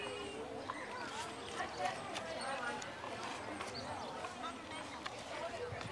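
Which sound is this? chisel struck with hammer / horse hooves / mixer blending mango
horse hooves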